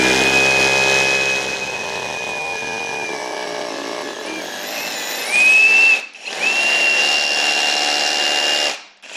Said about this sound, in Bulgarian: Сега, директно с осмица светло започвам да пробивам,